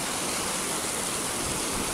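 Steady, dense roar of a waterfall on the Trient glacier, a constant broadband rush of falling water heard close and loud with no pauses or talk.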